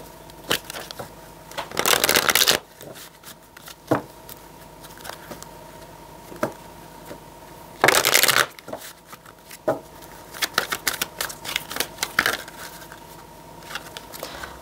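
Tarot cards being shuffled close by, with two longer bursts of riffling and scattered soft taps and flicks of card handling in between, no talking.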